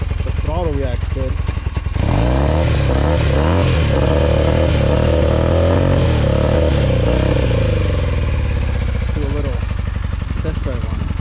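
A roughly 40-year-old vintage Honda motorcycle is revved close by, its engine rising and falling through several loud throttle sweeps over a steady running idle, with no talk over it.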